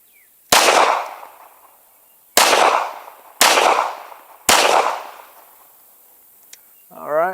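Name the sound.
handgun shots fired at target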